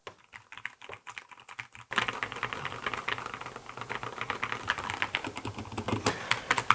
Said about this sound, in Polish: Jest bardzo cicho i to jest chyba jedna z najlepiej brzmiących klawiatur, takich ogólnodostępnych, nie customowych, nie wyciszanych